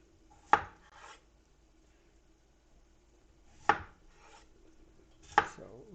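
Knife chopping potatoes on a cutting board: three sharp, isolated knocks spaced a few seconds apart, close and clear in a quiet kitchen.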